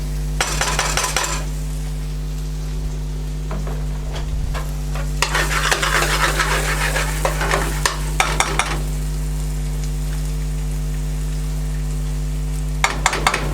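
Onions frying in seasoned, heated oil and stirred around a pan, with a steady close hiss and bursts of utensil scraping and clatter at the start, in the middle and at the end.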